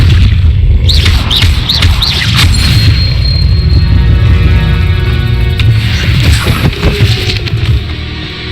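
Accio summoning spell cast in the Hogwarts Legacy video game, a loud, busy stretch of booming impacts and whooshing swells, with a few sharp chirping accents early on and a crash-like surge toward the end.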